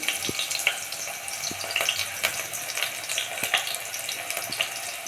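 Onions sizzle in hot oil for an avarekalu sambar masala, a steady close crackle with scattered pops and faint stirring clicks throughout.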